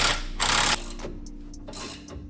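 Bolts on a Nissan 370Z coilover control arm being run down with a power tool, heard as short whirring mechanical bursts separated by pauses, close up and moderately loud.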